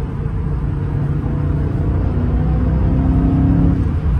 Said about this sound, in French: C'est un gros V8 Atmo, quoi.